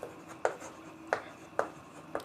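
Pen strokes scratch across paper while a hand-written term symbol for JJ coupling is worked out: four short, sharp scratching bursts, fairly close and moderately loud, spaced roughly half a second apart.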